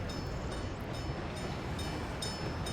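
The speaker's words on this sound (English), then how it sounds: "A little ride with our train." Train ride in the city-building game Workers & Resources, a steady broadband rumble of rolling rail cars with faint periodic clicks throughout, no talk.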